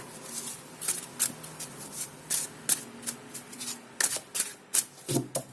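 Tarot cards are shuffled by hand in quick repeated bursts, a series of crisp riffling flutters with short gaps between them.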